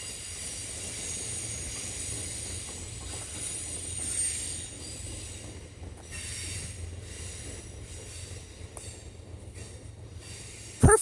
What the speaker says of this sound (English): It looks like a passenger train, guys. That's a passenger train.